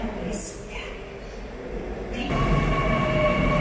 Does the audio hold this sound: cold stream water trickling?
no